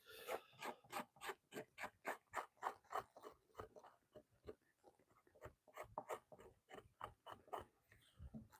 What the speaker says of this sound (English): we're scraping buckskin here